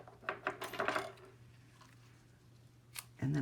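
Scissors trim a gold-threaded ribbon with a quick run of close, crisp snips and rustles, then fall quiet before a single click and a faint thump at the end.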